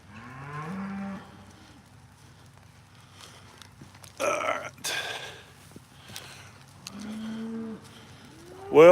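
Cattle mooing nearby in snowy woods where hay is fed, several low drawn-out moos separated by quiet stretches, with some rustling and shuffling noises between them.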